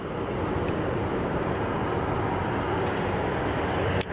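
A striped Condor airliner taxiing at Zurich Kloten Airport, heard as a steady, fairly distant jet engine drone that stays even throughout, with a brief louder rustle near the end.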